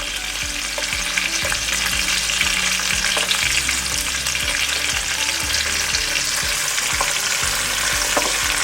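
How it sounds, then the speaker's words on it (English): Masala tadka sautéing in a pan, a loud, steady sizzle of frying spices with intermittent stirring scrapes and clinks, no voices. "Saute it for some while."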